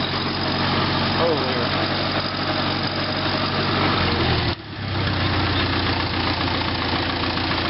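A 1948 Farmall Cub tractor engine runs steadily at a low, knocking idle while coasting, briefly dipping near the end before picking back up.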